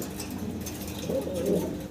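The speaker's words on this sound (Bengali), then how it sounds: "এখানে আছে এক জোড়া মাল্টেস কবুতর ব্ল্যাক কালারের ভিতরে, বিগ সাইজের ভিতরে" A pair of big black Maltese pigeons coo close by, soft low throaty calls that swell and roll across the clip, layered over a steady, rather loud background hum.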